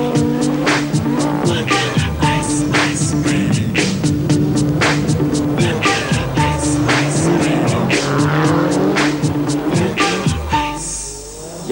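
Cars ice racing near Mont Blanc, engines revving hard and loud with rapid gear changes and throttle bursts, roaring close by almost without a pause before easing off at the end.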